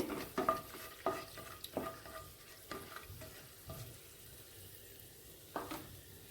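Whole garam masala spices, bay leaves, cardamom, cloves and cinnamon, fry lightly in oil, a soft, fairly quiet sizzle marked by a series of distinct spatula scrapes and taps, close by and without talk.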